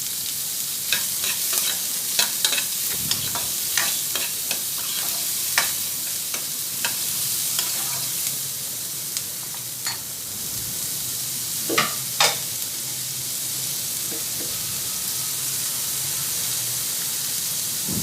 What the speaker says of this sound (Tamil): இதை கொஞ்சம் நல்லா வதக்கிக்கிறணும்.